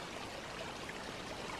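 Water from a forest stream flowing steadily in a quiet woodland, a soft continuous trickling wash, fairly faint and even throughout with no voices.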